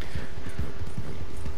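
Horse hooves clop in a steady rhythmic gait in Red Dead Redemption 2, close and loud, with low thudding footfalls repeating several times a second over a constant ambient hum.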